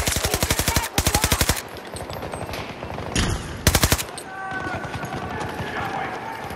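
Machine gun fire in the shooter Battlefield 2042, loud rapid bursts, a long run of shots followed by a few shorter volleys, mixed with game ambience and a voice speaking.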